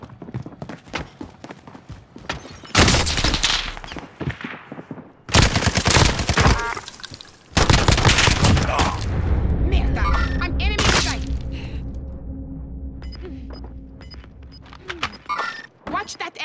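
Bursts of rapid gunfire and loud blasts from a Call of Duty: Modern Warfare quads match, several heavy volleys between quieter stretches, with game voice callouts and players talking over the shooting.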